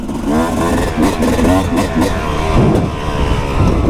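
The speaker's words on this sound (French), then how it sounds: "je voulais absolument un moment où j'essaye la moto" A motorcycle engine roars steadily during a test ride, loud and close, with a rough continuous drone and some clatter, while a voice speaks over it.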